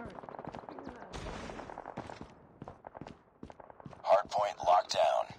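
Rapid M16 gunfire in the mobile shooter Call of Duty Mobile, sharp repeated shots and bursts over game sound effects, with louder shots near the end.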